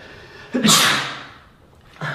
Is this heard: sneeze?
yes